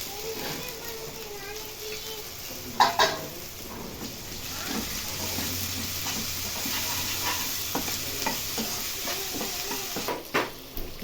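Green chilli and ginger paste fries with potatoes for an aloo pachi mirchi fry, a low steady sizzle under intermittent scraping and stirring clicks of a utensil against the pan, with a few sharper knocks.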